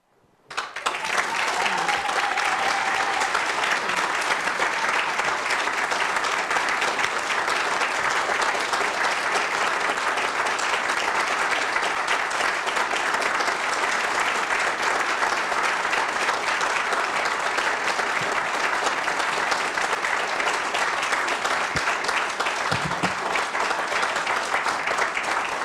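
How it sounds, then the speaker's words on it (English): Sustained audience applause fills a council meeting chamber after a public presentation, loud and steady for over twenty seconds with dense, even clapping and no talk over it. "thank you for holding your applause and everything until after the presentation"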